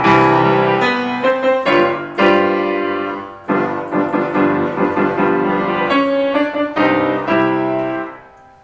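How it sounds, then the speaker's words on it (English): Piano playing the opening of Schubert's Wanderer Fantasy, with loud, emphatic repeated chords in a driving rhythm that break off briefly, then resume in a steady run of chords before ending, close and full with no talking. "he starts the Wanderer fantasy using that same rhythm that you heard."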